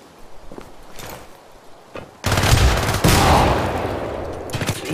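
Video game gunfire from Syndicate bursts in rapid, loud fusillades after a few sparse shots, close up and dense, with footstep-like thuds in the quieter opening.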